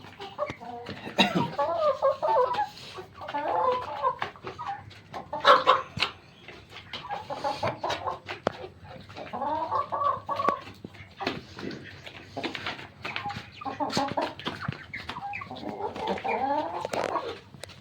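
Domestic hens cluck repeatedly from close by, in short, rhythmic bursts of throaty calls that keep going through the whole stretch, with brief quieter gaps between them.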